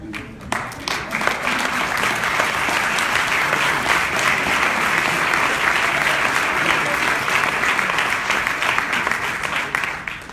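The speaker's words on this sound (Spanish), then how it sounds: "Sé que de parte de los hombres fue un aplauso medio desganado" Audience at a book fair breaks into applause, a dense sustained clapping that stays loud and steady for several seconds before tapering slightly at the end.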